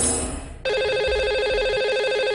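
Telephone ringing on an outgoing call to a radio show's lucky caller, a steady electronic ring tone that cuts in sharply after a brief fading sound and continues loud and unbroken.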